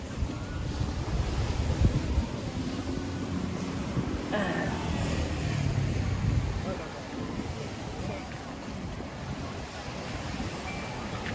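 Waves and wind at Bangsaen beach in Thailand: a continuous broadband roar of surf with gusting wind buffeting the microphone, steady and close throughout.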